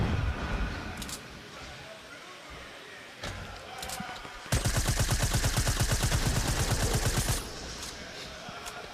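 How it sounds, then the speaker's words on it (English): Rapid SMG gunfire in a Fortnite match, fired to break through a wall, comes as a loud, dense burst of about three seconds of fast repeated shots, with softer game sounds before and after. "is he using an SMG there? It's because he's trying to break through that wall because he's low on AR ammo."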